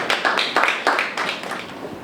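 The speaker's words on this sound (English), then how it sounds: "please a round of applause for him as he steps in" A small audience at a media and film investment summit press briefing claps to welcome the Dean of the School of Media and Communication: a few loud, uneven handclaps close by that thin out and fade over two seconds, with no talking.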